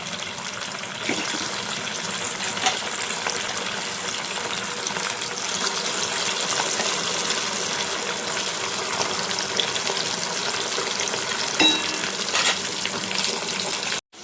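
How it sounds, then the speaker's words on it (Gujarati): Slices of taro root fry in a pan of hot oil, giving a loud, continuous bubbling sizzle that barely changes throughout, with a few faint clicks of utensils. "બધી ચિપ્સ તળાઈ ગઈ છે। હવે પાછી આમાં બીજી ચિપ્સ નાખી દઈએ"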